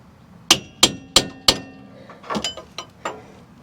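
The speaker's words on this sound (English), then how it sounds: "take like a brass drift to put on these ears and just tap it" Four sharp metallic taps of a hammer on a brass drift seating a part on a Ram 2500 Power Wagon, evenly spaced, followed by a few softer, duller knocks.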